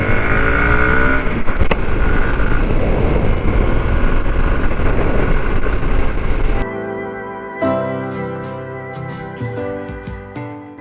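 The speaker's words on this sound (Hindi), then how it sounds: "इस समय पे राइड करने में इतना ज़्यादा विंड ब्लास्ट आ रहा है" Heavy wind blast roars against a moving motorcycle rider for several seconds, a loud dense rush that cuts off abruptly into quieter, tonal background sound.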